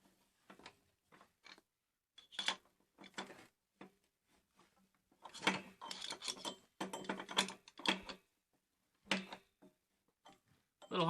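A ratchet snugs a fitting onto a water heater until its rubber washer seats, giving scattered bursts of close, sharp clicking, sparse at first and then denser clusters of quick ratcheting strokes.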